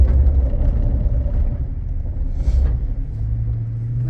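A 2008 Toyota Tundra pickup accelerates on gravel, heard as a steady low engine rumble with road noise from start to finish. A faint crunching crackle and a brief hiss rise near the midpoint, and no one speaks.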